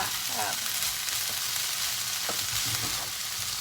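Vegetables stir-frying in a pan give a steady, close sizzle with a few soft scrapes of stirring, and no voices.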